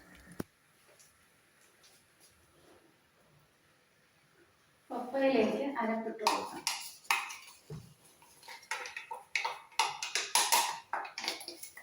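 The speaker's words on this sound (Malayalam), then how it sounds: "കപ്പ തിളച്ചിട്ടുണ്ട് കപ്പ നമുക്ക് വാർത്തെടുക്കാം" Boiled tapioca (cassava) being drained in a pot in a home kitchen: a faint quiet opening with one sharp tap, then loud splashing water and clanking metal pot bursts in uneven surges.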